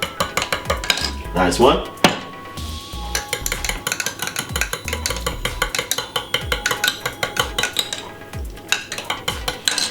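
A teaspoon stirs honey into garlic tea in a cup, giving a rapid, continuous series of bright clinks against the sides, close and loud, with a short spoken remark partway through.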